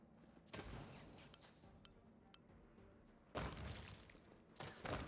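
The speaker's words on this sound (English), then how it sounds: "Explosions." Explosions from the video game Pathfinder: Wrath of the Righteous, two heavy booming blasts with rumbling tails and a few smaller thuds, loud against a quiet game backdrop.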